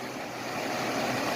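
A 2005 GMC Envoy XL Denali with the 5.3 engine idles after a power steering cooler repair, giving a steady, even, fairly loud rumble that holds unchanged throughout, with no talking.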